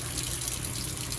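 Running water rinses a plastic metal detector part after cleaning with Dawn dish soap, a steady close hiss and splash lasting the whole short moment.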